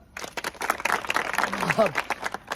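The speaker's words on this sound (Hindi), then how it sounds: "चलिए तालियां" An audience applauds at a stage event for a song, a dense rattle of clapping that swells and continues under voices, moderately loud.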